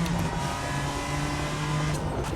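A race car at the Dubai Autodrome runs at full throttle with a loud, close, sustained engine roar and steady high-pitched harmonics, no voices.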